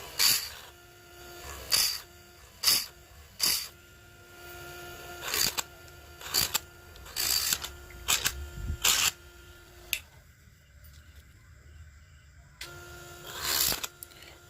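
A bel-fruit mala bead cutting machine runs, giving sharp rhythmic clacks at irregular intervals over a steady mechanical whine and hum, with one brief quieter stretch.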